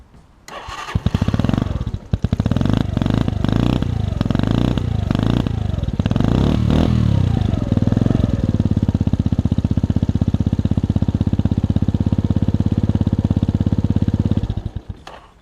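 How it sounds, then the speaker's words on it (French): A motorcycle engine cranks with a few stuttering attempts, catches, then revs hard several times before settling into a loud, steady idle, recorded close behind the exhaust; the idle cuts off abruptly near the end. "je vais poser la caméra juste derrière le pot et je vais vous démarrer la bécane"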